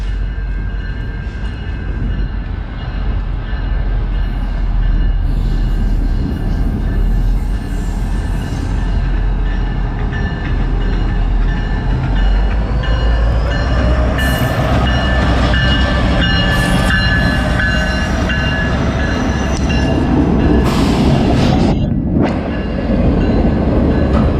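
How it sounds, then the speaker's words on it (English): A freight train rumbles past up close, loud and steady throughout, with a grinding, metallic roar that never lets up. "Comes another freight"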